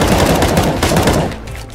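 Rapid automatic gunfire in the video game CS:GO, a loud close burst of shots in quick succession that ends abruptly, leaving a brief quieter tail.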